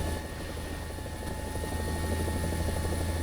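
A helicopter in the video game War Thunder gives off a loud, continuous rotor and engine drone with a steady tonal hum, unbroken for the whole stretch and heard alone without talk.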